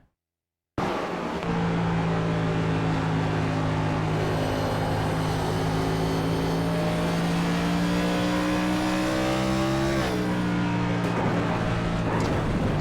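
An onboard race car engine in an oval racing game at Iowa drones loudly and steadily, its pitch climbing with throttle, before a sudden shift as the car slides and hits the wall.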